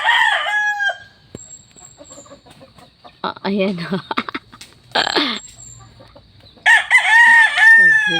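Chickens and a rooster crow and cluck nearby while being fed grated coconut, a loud crow opening and another closing, with scattered clucks between; a person speaks briefly.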